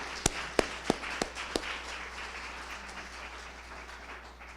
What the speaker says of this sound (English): So perhaps we could just interrupt this little introduction of mine by giving Salvatore a special round of applause.